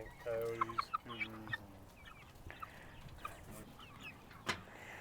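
Chickens cluck and murmur on a Montana family farm, a close burst of rapid clucks followed by scattered softer clucks and calls at varying distances.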